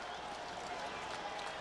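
A sold-out Dodger Stadium crowd roars steadily at a playoff-clinching Giants–Dodgers game, a dense, even wash of distant cheering and clapping with no clear breaks.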